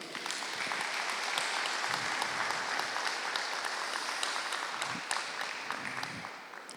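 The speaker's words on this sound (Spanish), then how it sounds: "Dale un aplauso al Señor." A church congregation applauding the Lord during a Spanish-language service, dense sustained clapping filling the whole stretch, loud and even with no speech over it.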